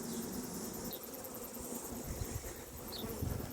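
Honeybees hum in an open hive during an inspection, a dense continuous buzz close to the microphone with a few louder individual bees passing by, no voices.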